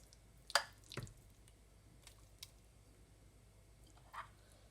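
Rum-soaked fruits being stirred into a Guyanese black cake batter make a few quiet, wet squelches and dull thuds spaced several seconds apart, close by and soft.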